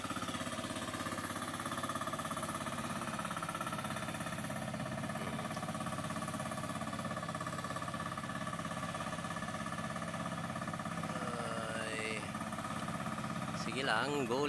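A farm machine engine runs steadily in a rice field being prepared for planting, a continuous mid-pitched drone that holds throughout with no pauses, with a brief higher whine near the end.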